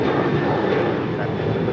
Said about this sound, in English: That is Alaska Airlines Flight 6 taking off to Washington National on a 737-800